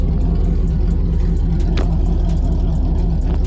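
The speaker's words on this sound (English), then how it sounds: "this open header situation is loud as crap." A loud LS-swapped 1997 two-door Chevrolet Tahoe engine runs with open headers, a steady close rumble idling unevenly without any pause.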